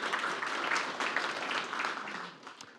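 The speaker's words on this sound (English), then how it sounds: "Let's have a round of applause for the great partners we have here." Audience applause at a business growth event, a steady dense wash of many hands clapping throughout, fairly loud and close, with no voices over it.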